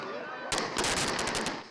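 Fireworks rockets fired at a football match crack in a rapid, loud burst of repeated bangs, like a volley of shots, following a steady crowd roar.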